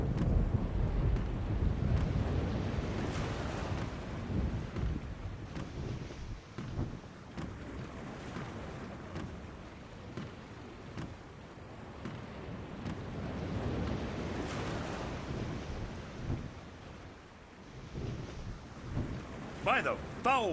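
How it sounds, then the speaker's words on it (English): Stormy sea in the adventure game The Longest Journey: a low rumbling roar of wind and crashing waves swells and fades in broad surges, with thunder-like rumbles and no speech heard. "The storm is closing in."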